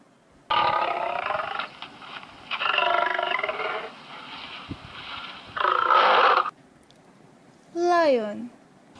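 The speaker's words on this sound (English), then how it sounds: "Lion." Lion roaring, a deep rumbling growl that comes in three loud bursts of about a second each, separated by short pauses, followed by a different brief rising call right after.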